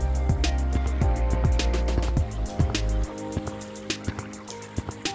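Water splashing and dripping in the VR game Gorilla Tag as a player swims, a run of close, choppy splashes and sloshes easing into scattered single drips and plops.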